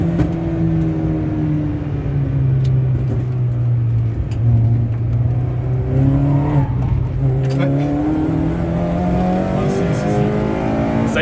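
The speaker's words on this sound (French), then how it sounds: "tu la jettes bien fort là, au lâcher de gaz, ça part tout seul après avec les autoblocs." Peugeot 206 1.6 16v (TU5JP4 engine, MA gearbox) fitted with a limited-slip differential, its engine droning and rising steadily under acceleration from inside the car, with a voice talking over the engine note.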